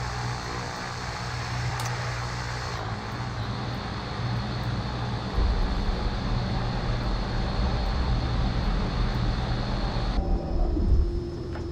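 A simulated Pilatus PC-12 turboprop taxies on the ground, its steady engine drone and high turbine whine running continuously, with a louder low rumble joining partway through.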